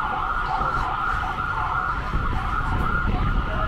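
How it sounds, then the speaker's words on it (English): An ambulance siren wails continuously on a New York City street, a steady high-pitched tone over low traffic rumble, fairly close and loud, with no talking. "Oh, there's an ambulance over there."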